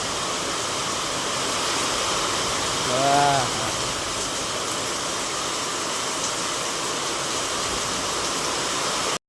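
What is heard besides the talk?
heavy rain pouring near a full dam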